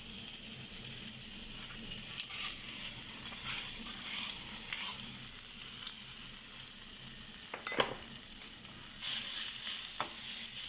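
Black chickpeas tipped into green chilies frying in a pan, a soft continuous sizzle with a few clinks and a brief clatter of stirring near the end, no voices.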